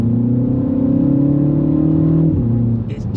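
Mini Countryman JCW engine and exhaust holding a deep, bassy drone with steady harmonic tone, pitch dropping slightly near the end; close and loud.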